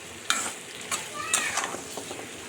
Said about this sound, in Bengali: লাউ রান্না।